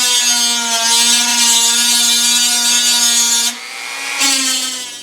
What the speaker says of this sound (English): I just got to take a little bit of paint off this, otherwise the solder flux won't stick